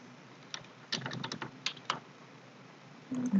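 A few quick clicks on a computer keyboard, including the Enter key, close and fairly quiet in a short burst, followed by a brief low voice near the end.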